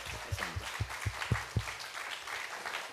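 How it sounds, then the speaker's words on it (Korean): Applause from a live audience at a Korean commemorative lecture and performance on the Jeju 4.3 uprising, heard as a short run of distinct claps at first that quickly thins into scattered, uneven clapping across the room. "박사님께 우리 박수 한번 부탁드립니다."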